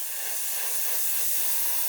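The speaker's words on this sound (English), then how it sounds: "So what we can do is just spray on more Mr. Surfacer" Mr. Surfacer primer sprayed from an aerosol can onto a 1/72 Airfix Vulcan model kit, one steady, close hiss lasting about two seconds with no talking.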